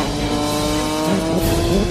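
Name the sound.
Porsche race cars on wet circuit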